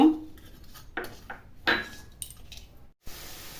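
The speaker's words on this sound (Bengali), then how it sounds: "এই দেখুন, এরকমভাবে কিছু সময় নেড়ে চেড়ে আমি পুরটা তৈরি করে নিব" A spoon scrapes and clinks through grated coconut and cane jaggery filling in a pan, making a handful of distinct dry strokes with short pauses between them.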